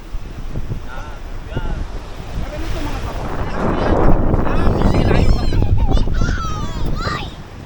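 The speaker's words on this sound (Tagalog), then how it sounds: "Kadang mahangin." Strong wind buffets the microphone in a heavy rumbling roar that swells midway, with surf-like noise and faint voices underneath, during fishing with a mosquito net.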